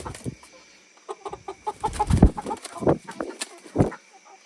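French Black Copper Marans roosters and hens cluck and call in a coop, a run of short close bursts with a louder squawk midway, while someone talks nearby.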